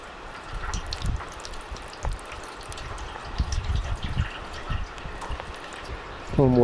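Water trickling and splashing through a pipe into a steel tank during light rain, irregular dripping and gurgling splashes at close range, with a brief voice at the very end.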